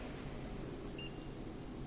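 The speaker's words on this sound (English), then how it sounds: "The machine will beep and display that the card has been scanned." One brief electronic beep from a reverse vending machine's barcode reader scanning a card, faint over a steady hum of room noise.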